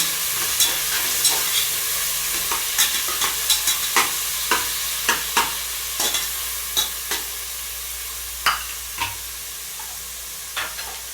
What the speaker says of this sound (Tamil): இப்போ கட் பண்ணி வச்சுருக்க தக்காளி போட்டுக்கோங்க. தக்காளி வந்து நல்லா வதங்கிட்டோம். நல்லா வதக்கி விடுங்க.